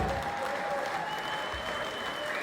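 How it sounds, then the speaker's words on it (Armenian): A studio audience in Armenia bursts into dense, steady applause that holds at an even level for the whole stretch, with a faint sustained tone running underneath. "ես խնդրում եմ արձագանքեք բարձր ծափերով"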